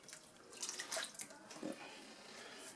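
Liquid poured from a 32-ounce container into a cooking pot of beef and noodles, a steady splashing pour that swells briefly in the middle, heard up close with no talking.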